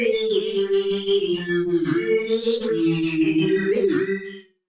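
A heavily chorused FL Studio synth with filter modulation applied plays wavering, sustained chords with swelling, sweeping tones, loud and alone, fading out at the end.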